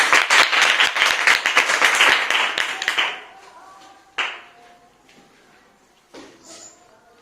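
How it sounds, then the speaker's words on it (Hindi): Schoolchildren in an upper primary class give a burst of quick, dense clapping lasting about three seconds, followed by a few scattered claps and taps in a quiet room. "चलिए सभी बच्चे इनके लिए ताली बजाएंगे पहले।"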